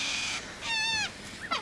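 Birds squawking at feeding time, giving a drawn-out harmonic squawk followed by a shorter rising call, fairly faint over a steady background hiss.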